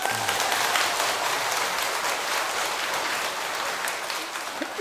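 Listeners at a lecture clap together in a steady, even burst of applause that holds for about five seconds, with a faint voice underneath.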